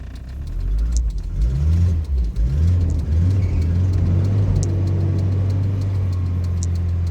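A Volvo 940 Turbo engine cranks and catches after a fuel problem, then settles into a steady, loud, close idle with a strong low rumble and a few brief revs early on.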